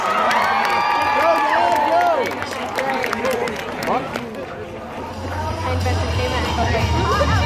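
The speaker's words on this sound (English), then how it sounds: "Let's give her one more big round of applause" Spectators at an outdoor BMX stunt show cheer, shout and clap in a steady loud burst that dips briefly midway and then swells again. Children's voices stand out in the crowd noise.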